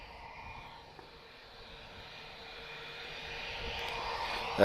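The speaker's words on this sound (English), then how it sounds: "this British Airways departure. It's BA501, he's off to London Heathrow, and it's an A319" A British Airways Airbus A319 departs Lisbon Airport, its jet engines a broad distant roar that swells steadily louder toward the end.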